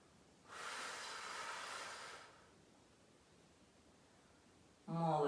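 A person takes one long, deep breath during a neck exercise, a soft hiss lasting about two seconds in a quiet room, and a voice starts speaking just afterward.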